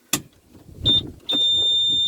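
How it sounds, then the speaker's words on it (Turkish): A CFMoto ZForce 550 UTV sounds its seat warning, a thin electronic tone that chirps once briefly and then holds as a continuous beep, preceded by a sharp click and mechanical clunks close up. "yine koltuk ötmesi var"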